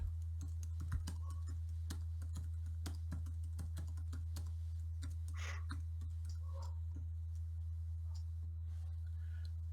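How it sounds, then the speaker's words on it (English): Steady typing on a computer keyboard, with a rapid stream of light clicks running throughout over a constant low electrical hum. "Watch the QR code change as I type."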